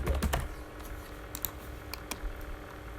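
Keys on a computer keyboard are struck in bursts of clicks, a quick cluster at the start and then scattered taps at a close, steady level while entering a spreadsheet formula.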